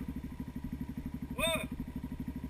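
A motorcycle engine on a muddy trail chugs with a quiet, rhythmic pulse, heard from a distance. A brief voice cuts in over it midway.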